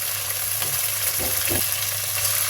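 Cumin, ginger, garlic and bay leaf hit hot oil after the onions have browned, giving a steady close sizzle with brief bursts of spattering. Duck curry is being cooked.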